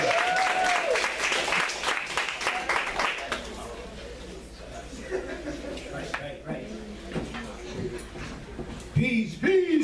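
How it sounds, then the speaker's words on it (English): A crowd claps and makes noise, with dense applause at the start that fades into lighter clapping and chatter as a voice speaks over it near the end. "This is where you all clap and make noise."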